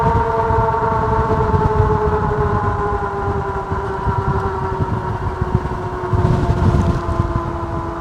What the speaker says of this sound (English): Yeah, this wind is crazy.